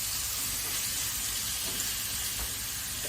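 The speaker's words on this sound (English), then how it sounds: "you'll hear a sizzle in the pan" Venison sears in a hot pan with rapeseed oil, a steady bright sizzle and hiss that stays loud and constant throughout.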